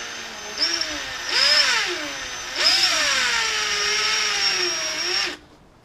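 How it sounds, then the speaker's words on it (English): A power drill bores a hole through wood for a stove handle, its motor whining loud and close in rising and falling bursts before cutting off. "Let's see if we can drill out a hole through first."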